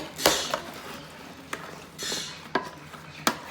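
Fried chicken wings tossed with barbecue sauce in a bowl, heard as a few sharp utensil clinks and scrapes against the dish with softer sticky stirring swishes between, close and fairly quiet.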